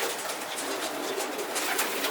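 Dropper pigeons in a racing pigeon loft coo softly against a steady airy background hiss, the low calls rising and falling faintly over the whole short stretch.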